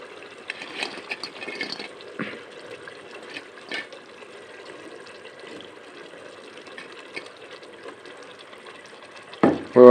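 Fried minced meat tipped into a pan of keema matar curry, with a soft wet sizzle and bubbling, scraping stirs and light clatter throughout, ending in a sharp loud clank.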